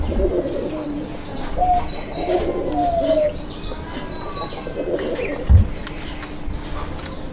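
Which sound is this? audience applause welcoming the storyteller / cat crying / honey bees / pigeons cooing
pigeons cooing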